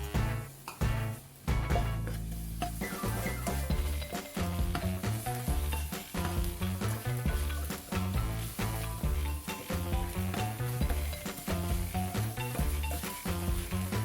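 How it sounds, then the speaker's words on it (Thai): Chopped chili and garlic stir-fry in a little oil in a pan, loud continuous sizzling broken by rhythmic scraping and tossing strokes, with no talking. "ใส่น้ำมันลงไปเล็กน้อยนะครับ ใส่พริกกระเทียมสับลงไปครับ แล้วก็ผัดเลย"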